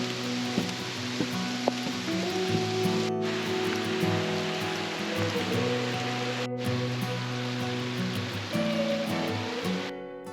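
Steady rain falls on a forest walk near waterfalls in rugged Tasmanian country, a dense continuous hiss of drops with no voices.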